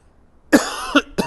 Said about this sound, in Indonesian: aduh kok jadi batuk sih